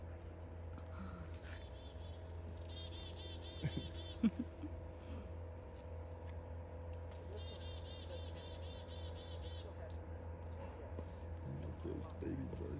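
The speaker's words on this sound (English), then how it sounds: "Those baby birds." Small birds chirp in repeated high twittering bursts amid the buzz of a busy bee house, with steady low hum and occasional handling noises underneath.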